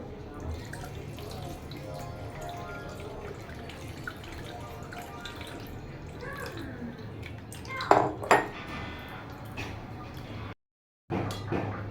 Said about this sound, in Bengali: এবার ছাঁকনি দিয়ে ছেঁকে নেব।